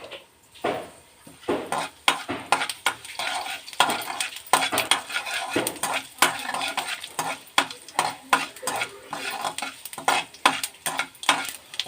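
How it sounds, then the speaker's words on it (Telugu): Tempering spices sizzle and crackle in hot oil in a pan for chutney, with steady frying hiss and frequent metal spoon scrapes and stirring clatter close by, no voices. "పోపు దినుసులు వేసుకున్నాను."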